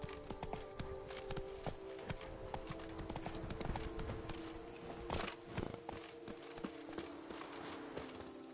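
Hooves of Roach, a horse in The Witcher 3, clip-clop in a steady walking rhythm, moderately close, with game music and ambient noise layered underneath.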